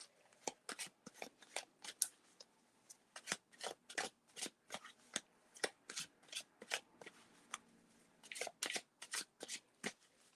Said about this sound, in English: So just start getting these shuffled.